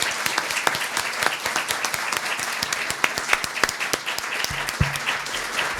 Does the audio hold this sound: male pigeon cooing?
no